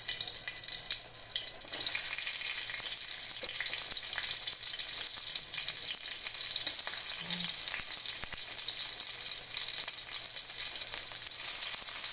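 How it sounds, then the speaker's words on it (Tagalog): Garlic, onion and tomato sauté in a small amount of oil in a pan for a Filipino monggo dish, giving a constant loud sizzle with faint stirring scrapes and no voices. "Para gisahin natin yung ating bawang sibuyas at kamatis"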